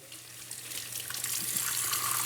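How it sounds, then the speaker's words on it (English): Running water from a tap rinses an alginate dental impression, a steady hissing splash that grows slightly louder and fuller as it goes, with no voices. "we'll disinfect it, rinse it out"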